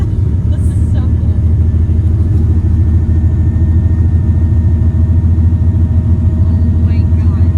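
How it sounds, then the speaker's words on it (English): A race car drives along a beach with its engine holding a loud, steady rumble from start to end, and people talk over the noise inside the car. "We're driving a race car on the beach."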